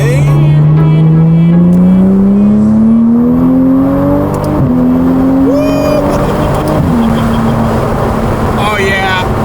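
A Toyota Supra fitted with a wing accelerates hard, its engine note climbing steadily loud and close, broken by quick crisp gear shifts at intervals as the pitch drops and rises again, with people talking over it.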